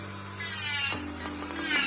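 An electric nail sander files off gel nail coating, a steady buzzing whir with a faint rubbing grind that shifts pitch midway as the bit presses against the nail.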